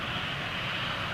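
An Air Transat Airbus A330 with Rolls-Royce Trent 700 engines roars overhead, a loud, steady, broadband jet engine rumble with no break.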